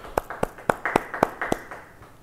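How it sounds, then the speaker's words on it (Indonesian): A church congregation at a Bible study gives seven sharp, evenly spaced claps that fade out over about two seconds, loud and close, with no talking over them. "Yang percaya beri tepuk tangan bagi dia."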